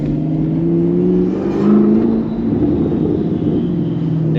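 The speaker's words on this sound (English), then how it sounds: "turbo sound crazy though" A Nissan GT-R turbo engine drones and revs steadily on city streets, a loud, close, continuous rumble with a brief swell partway through and no talking.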